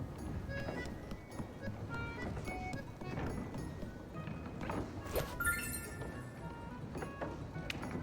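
A toy horse in the video game Little Goody Two Shoes makes a quiet, uneven clip-clop of hooves with faint clinking touches over a soft ambient background.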